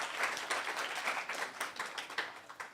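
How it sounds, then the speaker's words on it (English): Applause from an audience at a hackathon presentation event, a steady patter of many hands clapping at moderate distance, fairly soft, with no talking over it. "One more round of applause for this amazing team."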